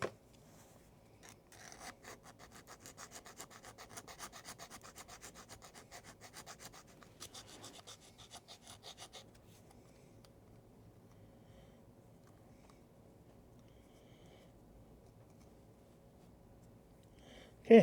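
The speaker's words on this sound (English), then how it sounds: "We have to use a file actually for the bottom." Close, quiet rasping of a file against the bottom of a plastic U.S.S. Reliant model kit, a steady run of rubbing strokes that fades to near silence partway through.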